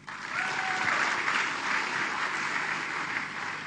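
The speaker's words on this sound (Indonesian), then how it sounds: "sekali lagi tepuk tangan untuk Bapak Yatmin" Audience applause for Bapak Yatmin at a company office gathering, a full, even burst of clapping from a crowd that holds steady throughout.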